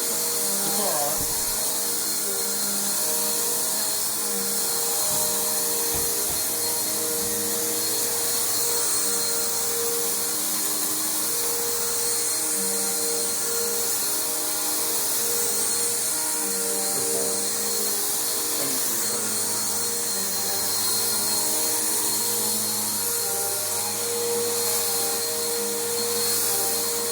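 A Bissell Powerforce bagged vacuum cleaner runs steadily while vacuuming an apartment, its constant whine and airflow roar close and unbroken, with faint low bumps now and then.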